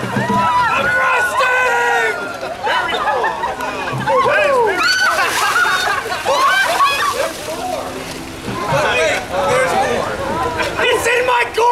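Ice water is dumped from a bucket over a person at an ALS ice bucket challenge, bursts of loud splashing and sloshing amid a cheering, shouting crowd, close and repeated over several seconds.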